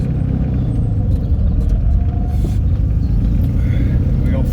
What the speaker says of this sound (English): There's the first speed bump.